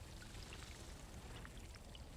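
Water pours steadily into a container in the video game Dune Awakening, a continuous trickling stream heard alone at low volume.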